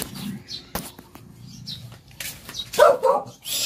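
A dog barks a few times at close range, sharp irregular yaps mixed with rustling and short noises.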